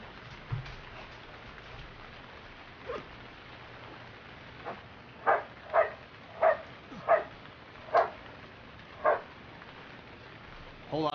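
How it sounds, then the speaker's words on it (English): Puppies in Stranded Deep bark in a series of about seven short, evenly spaced yaps at moderate distance, following a couple of isolated earlier barks over a quiet background. "Hey, puppies, how about you shush?"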